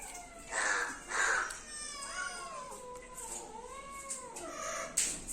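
A cat meows repeatedly near a fish seller's spot, with several drawn-out, wavering cries spaced over a few seconds against quiet background.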